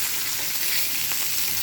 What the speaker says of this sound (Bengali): এইভাবে অল্প ভেজে আরেকটু উল্টিয়ে দেবো।